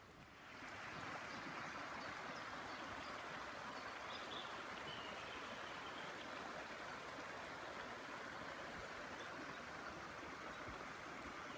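The River Mule flowing past and beneath a roundhouse in a riverside garden at Rock Mill, Powys, a steady broadband rushing of water that rises in after the first second and stays constant, fairly faint, with no voices.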